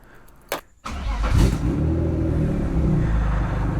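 A turbocharged BMW E36 starts with a short crank burst, then settles into a loud, steady rumbling run with a throttle blip partway through, heard up close with no talking.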